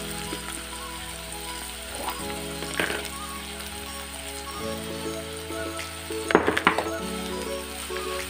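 Sliced onions with salt sautéing in a pan for chicken pepper gravy, a soft continuous sizzle with a few brief clatters of stirring.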